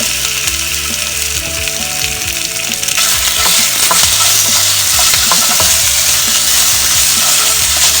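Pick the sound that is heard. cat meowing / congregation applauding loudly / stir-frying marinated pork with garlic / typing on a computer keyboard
stir-frying marinated pork with garlic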